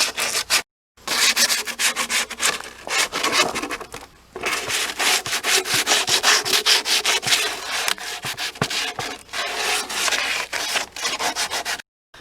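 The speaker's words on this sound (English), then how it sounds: "I just like to sand all this down, just because after I cut it, you know, there are some rough edges, little pieces of wood" Hand sanding roughens off splintery cut wood edges for a DIY composting toilet, with rapid back-and-forth rasping strokes, loud and close, broken by a couple of brief pauses.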